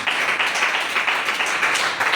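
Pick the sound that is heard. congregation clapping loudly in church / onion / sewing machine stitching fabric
congregation clapping loudly in church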